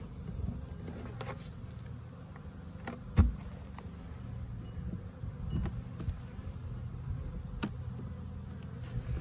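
Honeybees buzzing as a Langstroth hive is opened, a low, steady drone close by with scattered soft knocks and clicks from handling.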